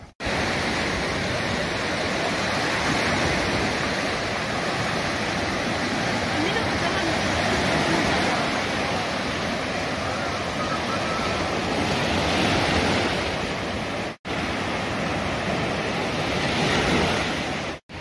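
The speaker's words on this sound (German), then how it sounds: "Und es hat geile Wellen." Ocean surf roars continuously, waves breaking in a dense, loud wash with a brief cut near the end.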